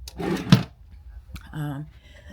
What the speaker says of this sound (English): we'll pull open a drawer for you so you can see